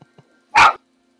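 A single loud dog bark, short and sharp, after a moment of near silence with a couple of faint soft sounds.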